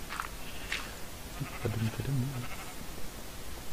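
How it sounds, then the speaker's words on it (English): A Minecraft sheep bleats once in the middle, short and moderately near, over faint ambient game noise. "Where are you sheep?"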